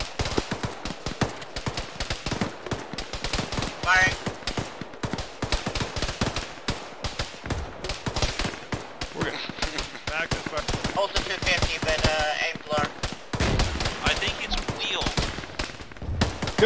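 Gunfire from ranging shots in the ShackTac Arma military game: dense, rapid bursts of shots and automatic fire crackle throughout at close range, with radio-style voices talking over the shooting.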